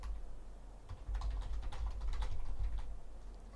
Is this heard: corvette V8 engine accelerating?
no